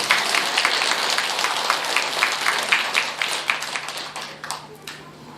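Lay Buddhists at a dharma talk in a mountain temple give a round of applause, a sustained, fairly close burst of many hands clapping that thins and fades toward the end.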